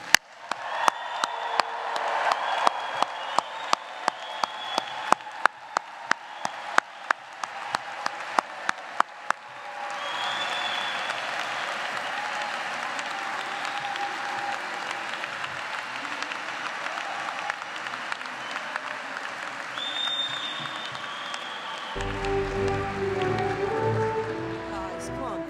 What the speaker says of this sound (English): I want to have one last loud Cameron-worthy cheer for our graduating class